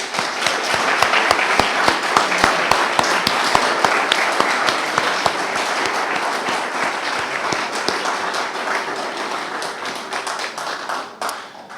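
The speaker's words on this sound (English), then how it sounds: "A big round of applause for all of you." An audience at an Eagle Scout court of honor gives a loud, sustained round of applause, with many close sharp individual claps over a dense crowd patter that fades out near the end.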